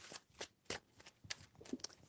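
Tarot cards are shuffled in a quiet room, several close, crisp riffling bursts in irregular rhythm, each a quick papery flutter followed by short pauses.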